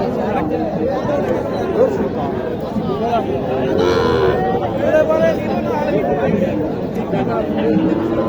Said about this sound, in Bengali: এটা তো শাহিওয়াল বাচ্চা তাই না